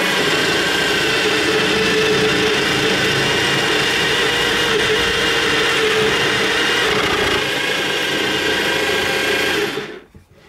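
A drill bores a 20mm hole through clamped wooden pieces on a jig for a spiral wooden Christmas tree, a steady loud whine running continuously before cutting off abruptly at the end.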